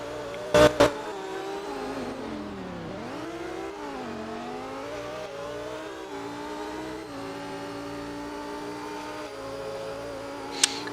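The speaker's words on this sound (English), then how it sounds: "A lot of rubber banding again going on from my POV as they make their way through the chicane" Sports race cars on a circuit, Shannonville-style club racing, sweep through a chicane with engines revving up and down in smooth pitch swings, a steady loud roar with brief sharp clicks near the start and end.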